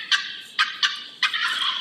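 A wild boss tom turkey gobbles in several loud, rattling bursts close by, with short pauses between calls and no talking.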